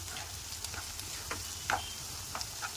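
Sliced okra fries in a pan, giving a faint, steady sizzle with a few light stirring taps and scrapes.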